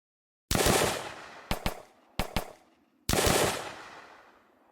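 Shots from an M1 rifle in a Nazi Zombies video game, built in Unreal Engine: a loud report, then two pairs of quick sharp shots, then a final loud blast with a long decaying tail, with no talking.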